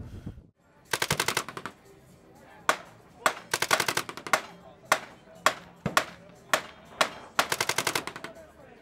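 A handheld PepperBall flashlight launcher fires projectiles in full auto, sharp rapid bursts of several pops alternating with single loud shots, close and punchy with brief pauses between volleys.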